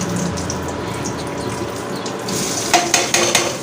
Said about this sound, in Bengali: পেঁয়াজ আর কাঁচামরিচ দিয়ে দিলাম। 5 মিনিট এটা ভেজে নেব।